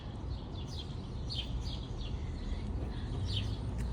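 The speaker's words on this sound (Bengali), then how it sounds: "পাখির কিচিরমিচির পাখির ডাক শোনা যাচ্ছে।" Small birds chirp and call outdoors among low trees, their short high twitters scattered and fairly faint over a steady broad wash of background noise.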